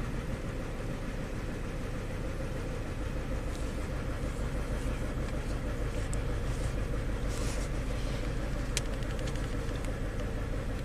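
A car engine idles steadily up close after a misfire repair, a dense continuous rumble with no revving and no talk.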